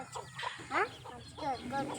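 Several chickens cluck and squawk close by in quick, overlapping bursts over a low background murmur.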